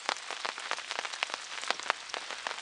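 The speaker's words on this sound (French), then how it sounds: "Autant maintenant là c'est de la belle pluie quoi." Heavy rain falls steadily at a carp fishing spot, a dense patter of drops striking surfaces with sharper individual splashes throughout.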